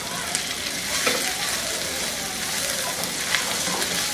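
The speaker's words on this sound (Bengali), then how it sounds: "এগুলো দিয়ে এর সাথে একটু ভেজে নিই।" Ridge gourd and peas frying with capsicum in a hot pan, a steady, loud sizzle with a few brief stirring clicks, close by and uninterrupted by talk.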